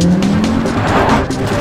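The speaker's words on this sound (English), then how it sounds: "let's fire up the engine and see if it really deserves that badge" A 2014 Audi RS Q3's turbocharged five-cylinder engine starts and roars loudly, revving with a throaty growl that rises and holds, close and continuous.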